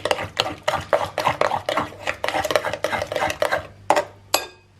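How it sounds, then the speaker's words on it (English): Vanilla and eggs stirred into almond flour banana bread batter in a bowl: a run of rhythmic, close scraping and clinking strokes of a utensil against the bowl, about a dozen quick passes, with no voices. "And we'll give that a stir through"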